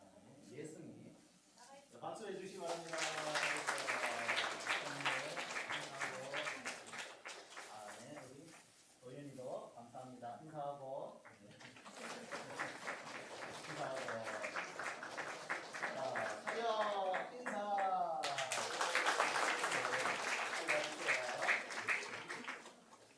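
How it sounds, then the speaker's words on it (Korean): A church congregation at a Sunday service in Ulsan, South Korea, breaks into sustained applause in three long waves of dense clapping, with some voices mixed in between the waves. "박수해 주시기 바랍니다"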